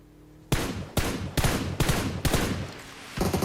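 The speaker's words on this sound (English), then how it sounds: "they're just exchanging shots" Gunfire exchanged during a battle royale video game match, heard as six loud, sharp shots in a steady rhythm, close and clear, with no voices.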